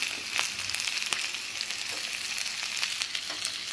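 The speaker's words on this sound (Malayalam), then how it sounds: "ഇനി നമുക്കതിലേക്ക് ആ സവാള അരിഞ്ഞത് ഇട്ട് കൊടുക്കാം." Chopped onions and curry leaves crackle and hiss in a hot pan, a bright steady sizzle with faint stirring clicks, close and fairly soft.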